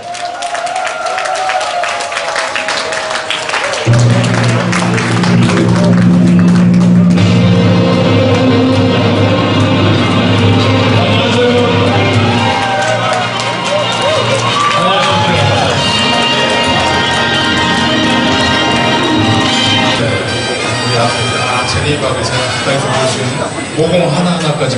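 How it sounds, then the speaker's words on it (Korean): A crowd at a university freshman welcome party in an army hall breaks into loud, sustained applause and cheering to welcome a performer, with music and a voice over the noise. "가장 큰 박수와 함성으로 초대하겠습니다"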